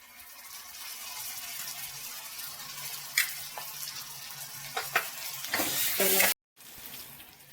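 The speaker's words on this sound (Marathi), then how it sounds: "आता आपण ह्याच्यात आलं लसणाची पेस्ट घालणार आहोत" Ginger garlic paste hitting reddish-browned onions in a hot pan for palak paneer: a continuous close sizzle with a few sharp stirring clicks building to a louder burst of frying before a brief cut.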